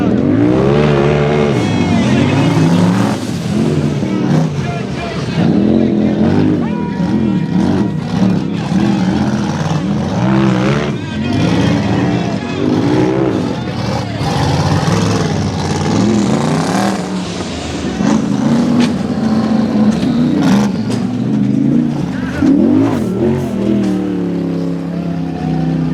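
Razor UTVs and big rock bouncer buggies race side by side at a knockout event in Disney, Oklahoma, their engines roaring and revving loudly and continuously up close, with a faint voice now and then.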